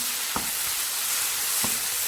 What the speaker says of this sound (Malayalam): എന്നിട്ട് നമുക്ക് ഇതൊന്ന് ഇളക്കി കൊടുക്കാം.